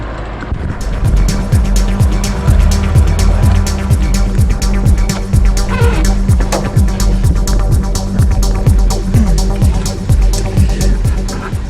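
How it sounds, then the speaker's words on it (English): A 1968 BMW 2002, freshly warmed up, drives uphill with its engine loud and close, a steady throbbing rumble with rhythmic pulsing, and a higher whine rises briefly midway. "it's just a matter of waiting for the car to warm up, I think, and I'm gonna go uphill first"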